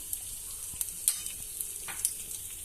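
Dried red chillies fry in oil for tamarind rice, with a soft continuous sizzle broken by scattered sharp pops and crackles, close and fairly quiet.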